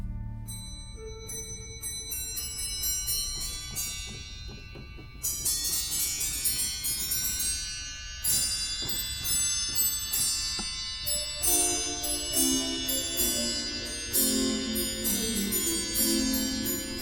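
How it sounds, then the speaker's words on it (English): The glockenspiel stop of a pipe organ rings out in bright, small bell-like tones, a quick run of struck pitches over sustained organ notes, clear and alone. "we're gonna hear the glockenspiel stop, which is a wonderful small bell sound."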